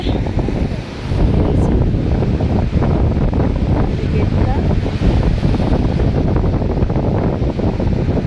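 Sea surf rolling in along a shore at high tide, a continuous broad roar of waves mixed with heavy wind buffeting the microphone, steady and loud throughout with no clear breaks between swells.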